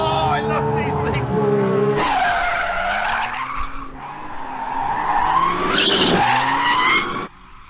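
A supercar drifts with loud tire squeal and skidding, engine revving in surges that rise and fall, with a voice talking over it.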